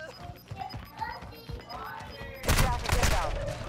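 Bursts of rapid gunfire in the Call of Duty: Modern Warfare II video game, a heavier volley near the end, mixed with game sounds and a player talking over it.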